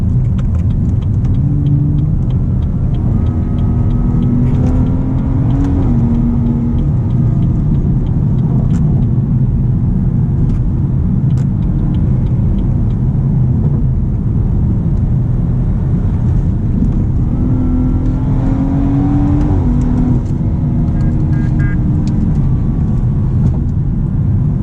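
A BMW M240i tuned to Stage 2 with an M Performance exhaust and downpipe accelerates hard in a steady, loud engine drone, with two clear rising pulls as the revs climb through the gears and wind rush throughout.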